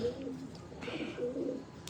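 Pigeons kept by a breeder coo softly in low rolling calls, a couple of faint burbling phrases at moderate distance with light background noise.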